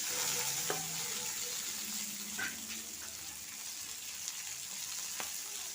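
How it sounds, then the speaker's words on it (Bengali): Cumin seeds, slit green chillies and a bay leaf sizzle in hot oil with a quiet, steady crackling hiss and a few faint clicks from the pan, with no one speaking. "ওই তেলের মধ্যে আমি দিয়ে দিচ্ছি জিরে ফোড়ন দিয়ে দিলাম চেরা কাঁচা লঙ্কা আর তেজপাতা"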